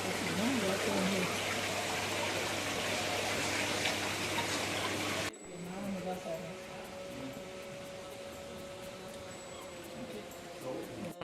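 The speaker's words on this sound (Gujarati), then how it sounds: "લે પાણી આવે છે" Water gushes steadily in a garden nursery in England, a loud continuous rush that drops to a softer flow partway through, with faint voices under it.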